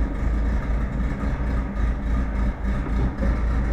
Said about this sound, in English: The engine's pretty quiet. It starts easy, but there you go.